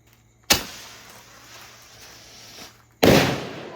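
Firecrackers burst at a temple festival: two sharp, loud bangs about two and a half seconds apart, the first trailing off into a hissing, crackling tail before the second blast cuts in.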